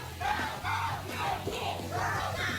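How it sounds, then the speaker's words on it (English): A disorderly crowd yells and whoops together in loud, overlapping bursts, with rising shouts repeating every second or so, close and energetic throughout. "A disorderly crowd."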